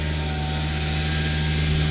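Vacuum pump on a filthy septic vacuum tanker building suction before emptying a 6000-litre cesspit, a loud, steady mechanical whine and drone with a high tonal hum and rattling undertone, continuous and close.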